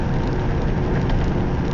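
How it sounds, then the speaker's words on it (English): A dense, steady hiss of heavy rain fills the whole moment, loud and unbroken, with a low rumble beneath it, heard while driving in traffic. "We started into this downpour"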